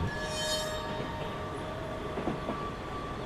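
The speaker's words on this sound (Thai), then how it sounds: "ก็ต้องหยุดให้กับเสียงรถไฟ ที่กำลังวิ่งมาอยู่ที่ด้านข้าง" A train rumbling past, a continuous heavy roar with a high metallic ringing tone and a brief squeal of wheels.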